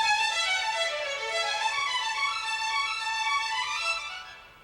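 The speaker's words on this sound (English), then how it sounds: "the rodeo music by Copland would sound like this" Orchestra violins play Copland's rodeo music smoothly and evenly in a Bach-like style, a bright sustained melody heard clearly and alone, fading out at the end.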